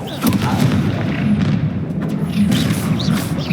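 A Confringo fire spell fired in the Hogwarts Legacy video game, heard as a rumbling, booming blast with steady heavy low-end roar throughout the battle.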